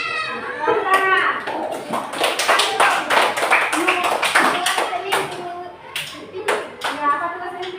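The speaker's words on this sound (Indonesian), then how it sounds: "Tepuk tangan." Primary schoolchildren in a classroom clap their hands, a burst of loud, close, uneven clapping lasting several seconds, with children's voices and an adult speaking over and between the claps.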